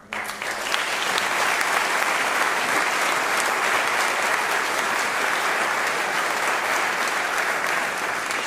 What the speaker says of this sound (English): And let's give Lynn Marmer a round of applause.